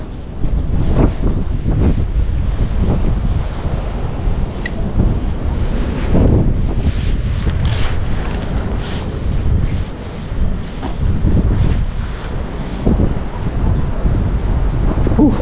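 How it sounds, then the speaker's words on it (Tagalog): Wind blows hard at the shore, a loud, continuous rumble buffeting the microphone with gusts rising and falling, and waves washing faintly underneath. "Hangin."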